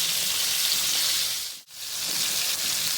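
Chicken pieces for homemade KFC-style fried chicken sizzle steadily in hot oil, a dense continuous hiss that briefly drops out as a piece is flipped over, then resumes at full strength.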